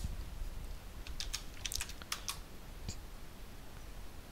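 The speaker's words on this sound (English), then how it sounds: "If I just type IR" Quiet typing on a computer keyboard, a short cluster of light clicking keystrokes in quick irregular succession, faint against a low steady room hum.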